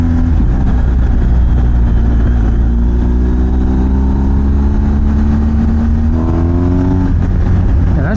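A BMW R 1250 GS Adventure motorcycle engine pulling hard in third gear, loud and close, its rising drone climbing steadily in pitch before a quick rev jump near the end.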